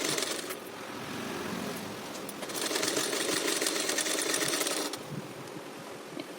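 Sewing machine stitching the L-shaped part of a blouse front, a steady fast mechanical whirring run that pauses briefly and restarts louder, with no talking.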